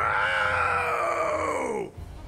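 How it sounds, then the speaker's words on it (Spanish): Goku lets out a long, loud sustained scream while transforming in the Dragon Ball Sparking Zero video game, holding steady before cutting off sharply near the end. "Ay, buen grito, buen grito."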